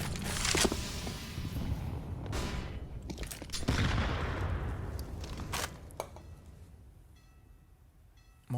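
Rapid gunfire bursts from pistols and rifles during a professional Counter-Strike: Global Offensive match on the Overpass map, loud, dense overlapping shots with a sharp burst near the end.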